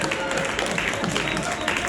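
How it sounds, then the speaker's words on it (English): Stand-up comedy club audience bursting into applause and cheering, loud and continuous crowd noise with no pause. "Give yourselves a round of applause."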